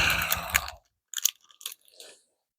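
Someone crunches and chews a fruit snack up close in short, wet bursts, with a steady stretch of chewing followed by a pause and then a few scattered bites.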